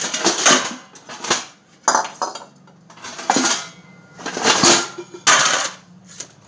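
Kitchen dishes, pots and utensils being put away, with clattering metal and ceramic clinks coming in bursts of handling separated by brief pauses, close and fairly loud.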